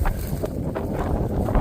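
Wind blowing through woods, a steady low roar buffeting the microphone without a break, with no voices.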